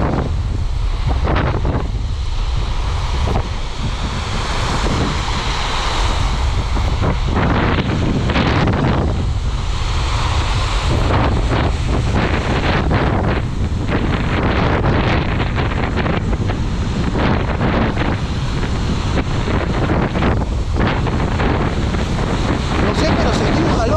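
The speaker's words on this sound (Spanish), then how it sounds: "El viento se lo lleva para allá." Strong wind buffets the microphone at the seashore during a spinning-rod fishing outing, a loud steady roar with gusty surges and waves under it, while people talk intermittently over the noise.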